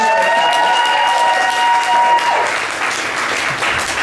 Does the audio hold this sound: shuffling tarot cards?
no